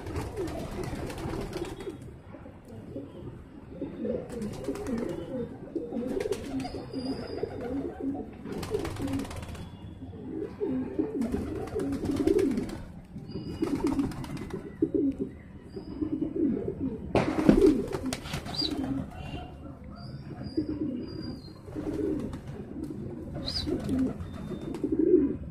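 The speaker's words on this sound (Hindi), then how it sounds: "और ये इनके कबूतर आप देखिए" Domestic pigeons coo steadily in a loft, a low, rolling murmur of many birds layered throughout, with occasional wing flaps and faint chirps, close and continuous.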